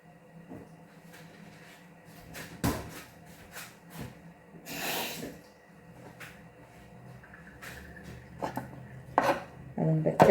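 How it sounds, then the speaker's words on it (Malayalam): Green chili being finely chopped on a kitchen board, with a few sharp separate knife strikes followed by quicker, scattered cuts and light clatter of utensils, close by and moderately quiet. "അതുകൊണ്ട് ചെറുതായിട്ട് അരിഞ്ഞിട്ടാൽ മതിയേ"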